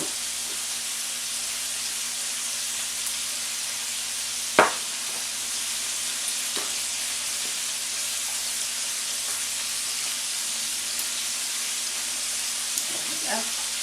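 Chicken browning in a pan gives a steady broad sizzle throughout, with a sharp utensil knock near the middle and faint scraping clatter toward the end.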